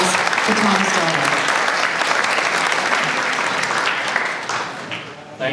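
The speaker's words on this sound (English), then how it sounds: "So round of applause for Tom's daughter." Audience applause at a Livermore Centennial Bulb celebration, loud continuous clapping from a crowd that thins out near the end, with some voices mixed in.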